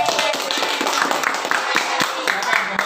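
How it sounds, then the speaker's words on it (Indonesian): Students in a classroom give a short round of applause for a group, quick overlapping claps spread across the room, fairly loud and steady, with some voices mixed in. "tepuk tangan untuk kelompok dua."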